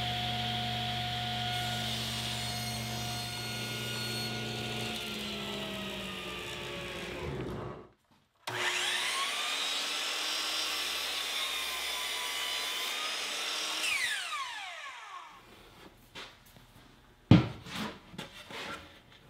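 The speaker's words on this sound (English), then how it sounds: "I'm going to rip this piece of 3/4-inch plywood in half" A power saw rips a sheet of 3/4-inch plywood in half in a workshop, a loud steady whine that cuts out briefly, resumes, then winds down into a few clattering knocks at the end.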